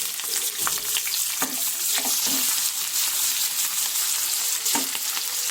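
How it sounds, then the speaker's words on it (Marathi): Ingredients fry in hot oil in a pan, a continuous sizzle with occasional clinks and scrapes from stirring, moderately loud and without speech. "हे फ्राय होत आहे"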